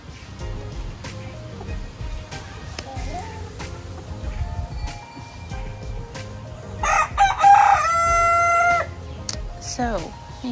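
A small bantam rooster crows on a farm, one loud, close, drawn-out call with a rising and falling harmonic tone, standing out above general background noise and clucking.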